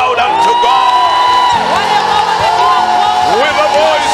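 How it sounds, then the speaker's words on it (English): Church congregation clapping and shouting during a charismatic service, a loud continuous crowd roar with whoops and rising cheers throughout, close and dense, with voices calling out over the din. "Clap your hands and shout unto God."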